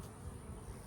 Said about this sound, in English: it's got a lot of bees on there.